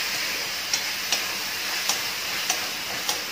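Masala pasta sauce with tomato sauce being mixed in a pan, a low steady sizzle with faint regular clicks of a spoon against the pan about every half second.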